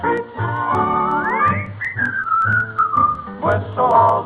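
A person whistles a lively tune with sliding, warbling notes, close and clear over a radio comedy band accompaniment.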